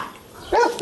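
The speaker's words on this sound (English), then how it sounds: "Dogs over there." Dogs bark a couple of times from some distance in an outdoor avocado orchard, short sharp yelps rising above a quiet hiss of background air.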